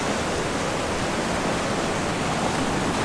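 Rushing water of a secret waterfall upstream of Boulder Falls, a steady, loud, broadband roar filling the whole stretch with no voices over it.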